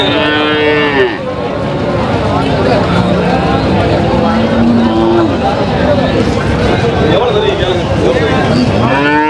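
Loud, repeated Kangeyam cattle moos, long and drawn out, ring through a noisy cattle market in Kundadam, India, overlapping one another with voices and clatter underneath.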